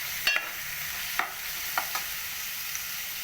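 Onions and curry leaves sizzle in a pan for a capsicum cashew curry, a soft steady fry punctuated by a few sharp clinks of a spoon stirring against the pan, faint and with no talking.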